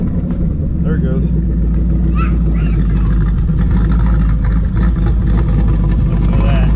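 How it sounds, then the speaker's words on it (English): A 2012 Ford Mustang Boss 302 V8 with its track key fitted gets a couple of quick throttle blips. The loud exhaust revs rise and fall over a steady idle rumble, and a voice talks over it. "Let's give it a little throttle blip."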